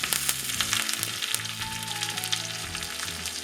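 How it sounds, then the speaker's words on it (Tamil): Mustard seeds, dried red chili, cumin and curry leaves tempering in hot oil for sambar give a steady close sizzle with sharp crackling pops scattered throughout, and no voices. "சாம்பார் தாளிச்சிடுறேன். கடுகு, காஞ்ச மிளகா, ஜீரகம், கொஞ்சம் கருவேப்பிலை,"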